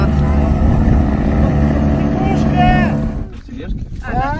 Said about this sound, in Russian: это наши едут на моторке